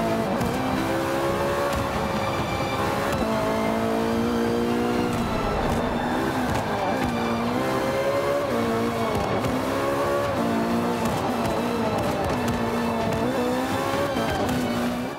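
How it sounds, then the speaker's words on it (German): Race car engine revving and driving sounds from the Forza Motorsport 5 video game, the pitch climbing and dropping repeatedly through gear changes, with tires squealing through corners, steady and loud without speech. "wir hören uns mal die Fahrgeräusche und die Motorengeräusche an"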